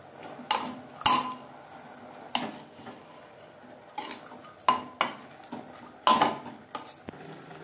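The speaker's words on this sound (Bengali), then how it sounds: "পেঁয়াজ টমেটোর সাথে মাংস বেশ ভালো করে মিক্সড করে দেবো।" Mutton is stirred with onion and tomato in a pot for mutton kosha, with irregular metallic clanks and scrapes of a spatula against the pot over a faint background, and no talking.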